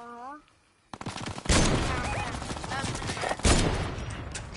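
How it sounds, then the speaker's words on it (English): Rapid, dense minigun fire sounds in a shooter video game. After a short lull, the loud continuous bursts roll on with a couple of sharper peaks, while a voice talks over parts of it. "He has a minigun, I have a minigun too"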